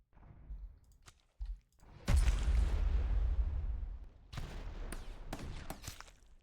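A grenade blast in a video game: a sudden loud broadband explosion with a long rumbling roar that fades over a couple of seconds, followed by sharp crackling bursts and clicks, with no one talking.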